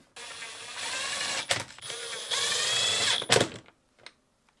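A power drill drives two screws into a GE refrigerator hinge end cap, two sustained whirring bursts, each ending in a clicking clutch rattle, close and loud with no talking.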